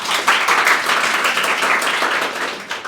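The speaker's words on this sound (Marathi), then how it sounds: "टाळ्या वाजवा रे सर्वजण" A crowd claps steadily at a Teachers' Day celebration, a dense and loud patter of many hands that continues without a break from start to finish.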